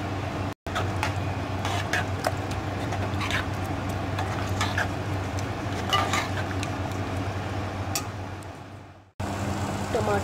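Cauliflower and mutton are fried in oil with spices and ginger garlic paste, giving a continuous low sizzle broken by sharp clinks of a spoon against the pan, with brief cuts in the sound.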